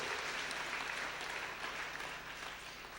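A church congregation applauds during a Sunday School Kikuyu service at ACK St. Mark's Church Mukui, sustained dense clapping from many people that fades slightly toward the end, fairly quiet.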